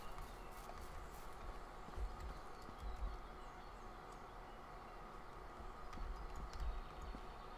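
Horse hooves walking in the medieval game Medieval Dynasty, a soft steady clip-clop of plodding steps under a constant faint ambient hum, quiet and continuous.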